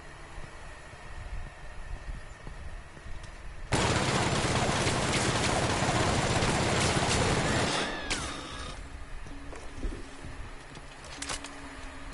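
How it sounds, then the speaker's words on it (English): A sustained burst of automatic machine-gun fire from The Outer Worlds, a large-magazine weapon roaring loud and continuous for about four seconds before cutting off, with quieter game ambience and scattered effects before and after. "My new machine gun."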